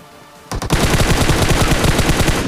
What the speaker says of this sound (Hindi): तभी मेरा टीममेट फायर देता है, और तभी देखो ये फायर आया